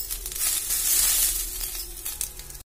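Sesame seeds, coriander and mint fry in hot oil for a green chilli chutney, giving a steady, close, bright sizzle with light stirring, heard alone without voices.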